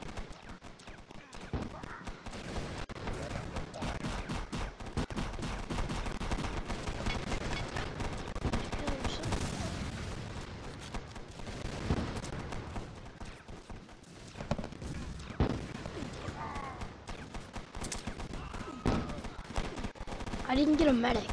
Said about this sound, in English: I'll shoot a pistol